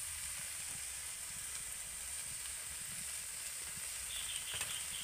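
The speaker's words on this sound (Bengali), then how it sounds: "আবারও ভালো করে নাড়তে থাকবো।" Pointed gourd stirred in a hot pan with salt, turmeric and chili powder, a continuous steady sizzle and hiss of frying with faint scraping of the spoon, close and alone without any voices.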